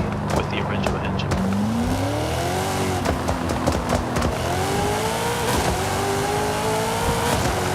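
A Honda S2000 drag car in Forza Horizon 5 roars loudly and continuously, its anti-lag engine revving and climbing in pitch through the gears, with tires squealing, and speech running over the top throughout.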